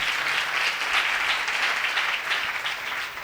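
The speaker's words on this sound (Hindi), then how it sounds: "तालियां बजाकर बताएं।" A church congregation claps together, a loud, continuous burst of applause with a busy rippling texture and no speech over it.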